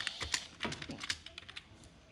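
Computer keyboard keys tapped while writing code in Processing, a quick irregular run of close, crisp clicks with short pauses between bursts.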